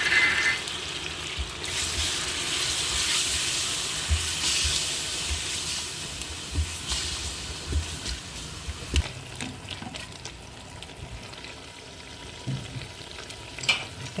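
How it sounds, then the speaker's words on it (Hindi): Onions frying in a pot for aloo gosht, a loud continuous sizzle and hiss up close, with stirring scrapes and clatters growing more frequent toward the end, no talking. "देखिए प्याज भुन गया है"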